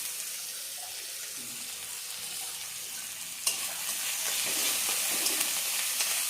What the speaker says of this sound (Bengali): এখন রসুন আর আদাটা আমি তেলে দিয়ে দিব।